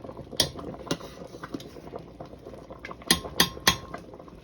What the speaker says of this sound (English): You have to stir the molokhia while it's cooking so it doesn't stick to the pot